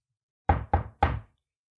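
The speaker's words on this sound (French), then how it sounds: "Il se précipita chez la grand-mère et frappa à la porte." Three firm knocks on a wooden door, sharp and close, the last slightly delayed after the first two, with silence around them.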